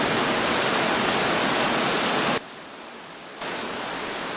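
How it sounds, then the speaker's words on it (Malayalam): Heavy rain pours down at Ripple Waterfalls near Munnar as a loud, steady, close hiss. It drops suddenly to a softer, duller wash partway through, then rises again slightly, with no talking. "അതിതീവ്ര മഴയാട്ടോ ഇപ്പോൾ നമ്മുടെ റിപ്പിൾ വാട്ടർഫോൾസിനെ അവിടെ പെയ്തുകൊണ്ടിരിക്കുന്നത്"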